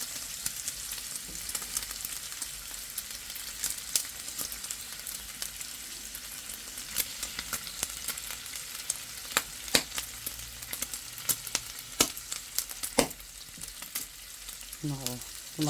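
Pork fat sizzles and crackles steadily in a pan as it renders into oil, with sharp pops and spatters scattered throughout and occasional stirring, close and continuous without speech.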